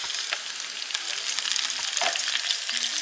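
Brussels sprouts hitting a hot pan on medium heat, sizzling in a dense, steady, close-up hiss that runs without pause for three seconds, with a few faint clinks and shuffles underneath.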